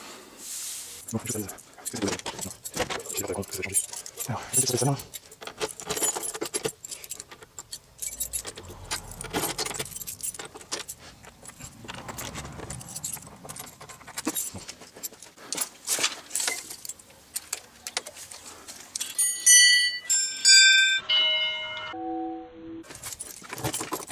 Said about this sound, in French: On a changé de trousseau. On va trouver la bonne clé.